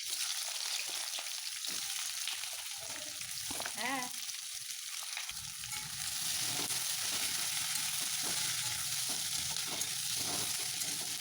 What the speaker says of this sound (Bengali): কড়াইয়ের মধ্যে গরম মশলা ফোড়ন দিয়ে আর লম্বা লম্বা করে কেটে রাখা পেঁয়াজ দিয়ে ভালো করে এটাকে ভেজে নেবো